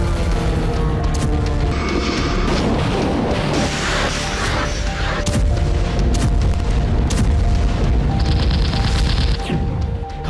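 Heavy blasts and crashing booms from Russian missile strikes on Kharkiv, a continuous loud, dense roar of impacts and rumble with repeated sharp hits, no talking.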